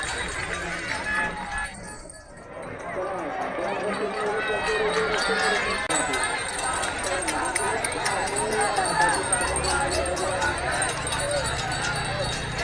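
A dense crowd at a Ganpati immersion procession, a continuous loud murmur of many voices and movement, with someone talking close over it throughout.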